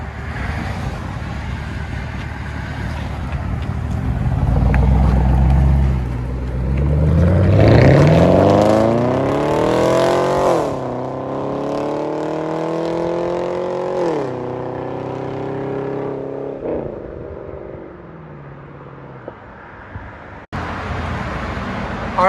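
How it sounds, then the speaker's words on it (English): Loud exhaust from a 2010 Chevy Camaro SS with a 6.2L LS3 V8, muffler delete and high-flow BBK headers, rising through hard revs and dropping back to a rumbling idle, close by with no talk. "We did a muffler delete earlier in the week, but it wasn't loud enough, so we made it louder."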